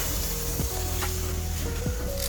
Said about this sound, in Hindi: आप लोग साइड में ऐसे अनियन गार्लिक सौते करके अपना साइड में निकाल के डाल सकते हो